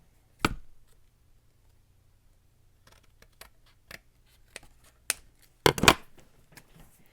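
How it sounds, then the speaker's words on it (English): Scissors cutting eco-print watercolor paper into tags: a few sharp, isolated snips spaced out over several seconds, then a quick cluster of louder cuts near the end, close up with no talking. "We're going to cut this one, and then I think these are all cut into tags"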